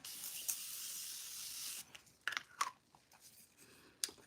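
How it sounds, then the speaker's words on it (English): A close, soft hiss of Morphe Continuous Setting Spray sprayed onto a face lasts under two seconds, followed by a few light taps and clicks. "So I'm going to spray my face with the Morphe Continuous Setting Spray."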